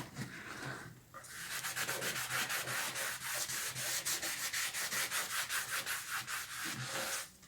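Wax is buffed onto a painted wood surface with brisk back-and-forth rubbing strokes, a steady rhythmic scrubbing close to the microphone, with a brief pause early on.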